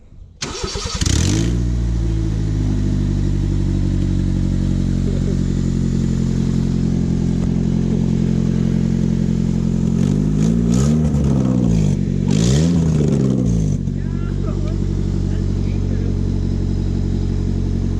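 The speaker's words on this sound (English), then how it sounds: "Give it a bit of a rev" A Honda Civic engine idles steadily with its headers undone and running open, loud and close. Partway through it is blipped in a few sharp revs that rise and fall before it settles back to a rough, throaty idle.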